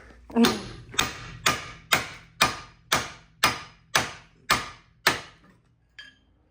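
Ten sharp hammer blows on a metal front suspension part of a Buick LaCrosse, loud and close, struck at an even, steady rhythm before falling silent.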